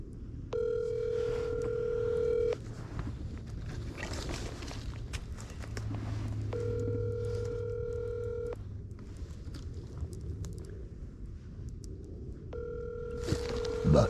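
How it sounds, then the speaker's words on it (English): A telephone call rings out as three repeated ringback tones, each lasting about two seconds with long gaps between, faint over a low background hum. "I ring my friend up."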